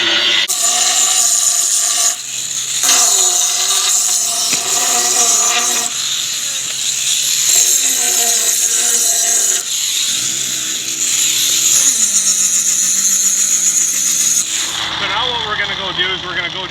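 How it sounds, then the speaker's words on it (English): Angle grinder flattening a steel flange for an access port, a loud continuous grinding whine that dips and rises in pitch as the disc is pressed and eased across the metal. "when we're going to grind this really quickly"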